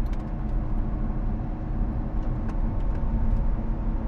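Lotus Evora GT engine on a mountain road, a steady, loud drone of engine and road noise heard from inside the car, continuous with no talking.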